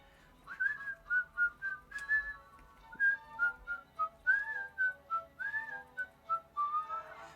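A person whistles a cheerful tune alone, a string of short, clear, bright notes in a bouncy rhythm, fairly quiet and close with no talking.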